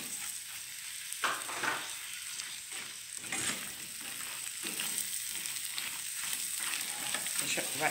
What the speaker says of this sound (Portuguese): deixa fritar mais um pouco